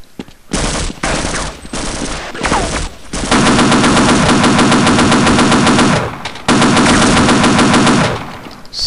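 Machine gun fire in Half-Life: Uplink, loud rapid bursts of automatic shots with brief pauses between them, close and dominant, ending with a short break before one last burst.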